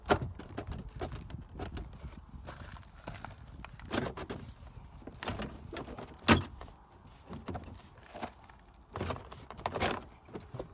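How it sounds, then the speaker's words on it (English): A Ford Crown Victoria door panel is pried and pulled off, giving scattered plastic clicks, creaks and sharp pops as the clips release, close up with no talking. "And the door panel just comes right off."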